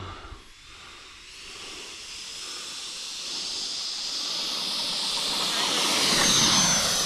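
An underpowered RC jet with an electric ducted fan on a 3-cell battery spools up for takeoff, a rising, airy whooshing whine that grows steadily louder over several seconds, with no talk over it.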